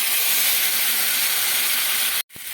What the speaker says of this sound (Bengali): এবার এর মধ্যে মশলা পেস্ট আমি দিয়ে দেবো।